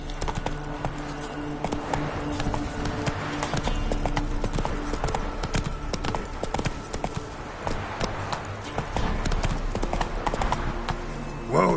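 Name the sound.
horse Roach galloping in The Witcher 3 video game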